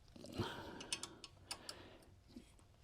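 Brake caliper bolts on a Smart 453 are tightened with a ratchet, giving a faint series of quick metallic clicks over about three seconds.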